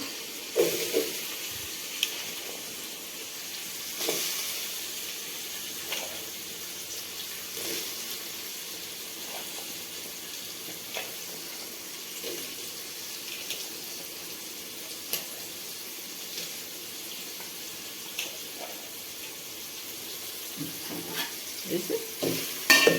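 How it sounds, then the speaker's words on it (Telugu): Vegetable pieces fry with ginger garlic paste for a village-style fried rice, giving a steady broad sizzle with scattered stirring scrapes and clicks throughout, moderately loud and close, with no voices. "ముక్కలు బాగా వేపుకోవాలండి"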